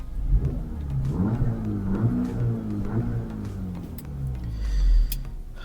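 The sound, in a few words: 2024 VW Polo GTI engine revving in sport mode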